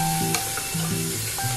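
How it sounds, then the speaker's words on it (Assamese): Onions frying in hot oil in a pan for rajma, giving a loud, steady close sizzle with light stirring clicks throughout and no voices. "তাৰ পিছত মই অলপ তেল দিলো তেলখিনি গৰম হবলৈ দিছো তাৰ পিছত এতিয়া মই পিয়াজ দিলো"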